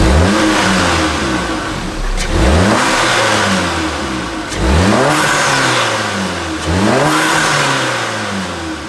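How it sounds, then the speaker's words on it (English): An Audi A3/S3 engine with a closed-box intake revs up repeatedly, four rising surges each falling back toward idle, loud and close with a deep, throaty intake tone. "give the car a few revs so you can hear what that air intake sounds like"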